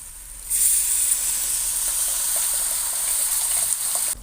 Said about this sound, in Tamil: இப்போ நம்ம கரைச்சி வச்ச புளி தண்ணியை இதில் சேர்த்துக்கலாம்